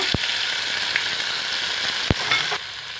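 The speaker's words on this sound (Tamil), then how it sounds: "அந்த சிக்கனை இந்த எண்ணெயில் அப்படியே போட்டுருங்க." Boiled chicken cooked with salt and turmeric fries in hot oil, giving a steady close sizzle with a few sharp spatters and stirring knocks, and no talk.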